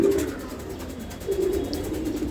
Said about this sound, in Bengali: এই কবুতর আটকায় রাখা খাঁচার ভিতর বড় হয়ে গেছে